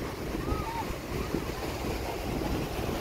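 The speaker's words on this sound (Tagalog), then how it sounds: "So maalon dito mga lodi kasi open na yan malakas ang current ng hangin." Rough open sea in Albay churns under strong, buffeting wind that roars across the microphone, a steady, loud wash of surf and gusts with no clear pauses.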